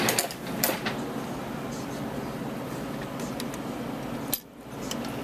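A sewing machine stitching pinned-together fabric pieces along a side seam, humming in a steady, even whir with a few light clicks and a short pause near the end.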